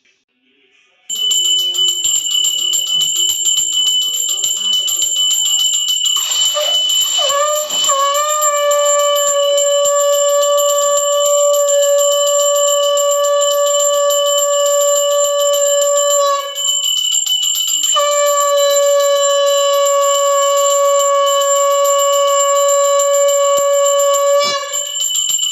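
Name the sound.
conch shell being blown during aarti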